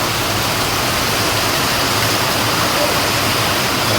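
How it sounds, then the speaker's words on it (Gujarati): Heavy rain pours down in a loud, dense, unbroken roar with no pauses. "ધોધમાર વરસાદ ચાલુ થઈ ગયો છે"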